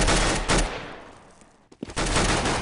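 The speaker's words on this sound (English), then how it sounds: "Shots are being traded, and we do actually see MBK has an SMG in hand." Gunfire exchanged during a Counter-Strike match between VeryGames and LDLC, with an SMG among the weapons: dense bursts of close, loud shots at the start and end, a quieter stretch between, and a brief sharp pop near the middle.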